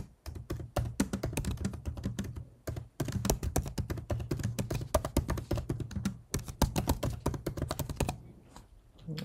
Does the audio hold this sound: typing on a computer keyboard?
yes